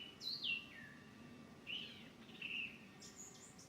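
Birds call in short, faint chirps and whistled phrases scattered across a few seconds, heard at a distance over a low, steady background hum.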